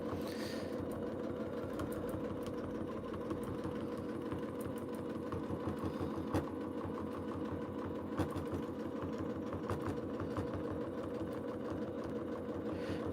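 A sewing machine running steadily while quilting, a fast even mechanical whir and rapid needle chatter held throughout at moderate level, no voices.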